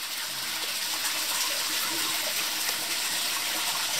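Gushing splash of water rinsing newly hatched pike fry in a trough, a steady hissing pour heard nearby for several seconds without speech.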